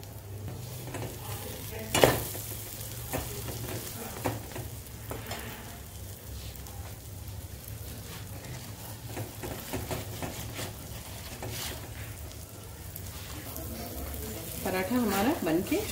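Mixed vegetable paratha cooking with butter on a pan, a soft continuous sizzle and frying crackle with occasional scraping stirs and a utensil knock near the start.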